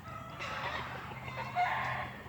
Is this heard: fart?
no